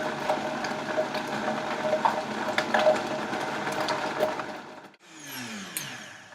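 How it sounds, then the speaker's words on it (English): A kitchen blender whirs steadily, blending raw vegan chocolate cherry brownie ingredients as pieces drop in from the top. The loud motor drone cuts out near the end, and a lighter, uneven rattle follows. "I'm going to drop them in while it's blending from the top"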